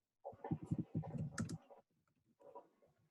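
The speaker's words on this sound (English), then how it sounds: "I have to do my typing correctly." Typing on a computer keyboard during an online English class, with a rapid burst of close clicking keystrokes, a short pause, then a few more faint taps.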